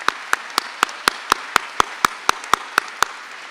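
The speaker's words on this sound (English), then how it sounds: "how about a round of applause for these tremendous Sheridan musicians?" Steady rhythmic clapping, about fourteen even claps in a row, sharp and fairly close, rising from the audience at a 2019 commencement ceremony.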